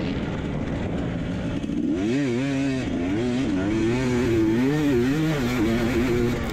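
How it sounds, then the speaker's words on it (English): KTM motocross motorcycle racing on a dirt track, its engine loud and close, steady at first then revving up and down in rapid waves as the rider works the throttle. "Yeah, it's a motocross race. I'm riding the KTM."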